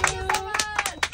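Hands clap in a quick, uneven run of sharp slaps over a steady tonal hum, close and moderately loud.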